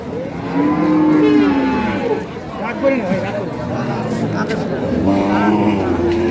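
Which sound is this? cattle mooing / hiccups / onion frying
cattle mooing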